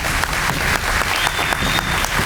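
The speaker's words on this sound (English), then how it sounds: "One final round of applause for all those who are recognized this evening" A crowd at the Richmond Fire Department honors and awards ceremony claps loudly and continuously for the evening's recognized recipients, a full, even wash of hands with no speech over it.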